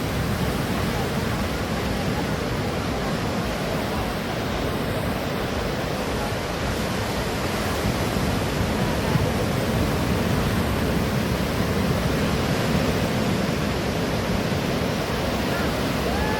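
Sea waves wash ashore on the beach at Puri, a steady, loud, broad roar of surf that never lets up, with voices faintly audible under the water noise.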